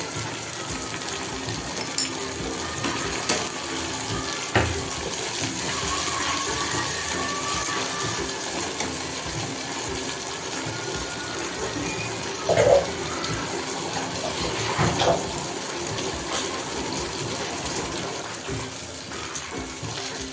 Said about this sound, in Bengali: আর একটু জল দিলাম